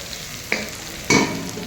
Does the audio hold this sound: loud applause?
no